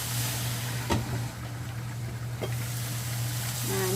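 Ground beef frying in a covered pan, giving a continuous, fairly loud sizzling hiss over a steady low hum, with a couple of brief knocks.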